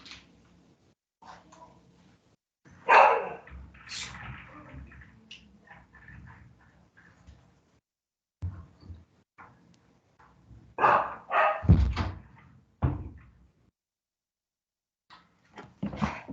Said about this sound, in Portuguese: O cachorro vai fazer a zoada na hora que acaba o intervalo.